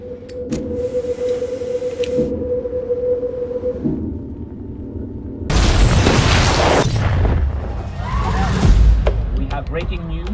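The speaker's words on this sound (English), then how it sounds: "a large explosion has gone off in the center of the city" A sudden loud, broadband boom erupts partway through, following quieter rumbling, with a deep low-end surge and lingering crackle afterward.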